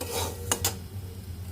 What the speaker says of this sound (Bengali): সুজি আর বাদামটা দিয়েও ভালো করে নাড়াচাড়া করে নেব।